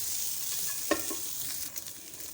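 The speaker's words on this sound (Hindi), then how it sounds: "तो इसे मैं 2 से 3 मिनट तक इस तरीके से फ्राई कर लूँगी" Chicken frying in a pan while being stirred for a vegetable soup, a steady soft sizzle with one sharp scrape or clink of the spoon partway through and a few lighter stirring taps later, no talking.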